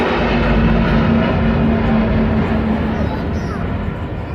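An Airbus A350-1000 jet airliner drifts past, a loud, steady broadband engine roar with a faint tonal hum that holds for several seconds before easing slightly; a voice talks over it.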